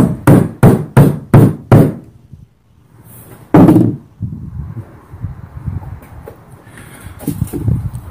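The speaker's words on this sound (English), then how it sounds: "I knocked this tube inside there." Brass tubing hammered into the handle hole of a homemade saw-blade knife: five loud, evenly spaced knocks, one more heavy strike after a pause, then softer scraping and handling noise.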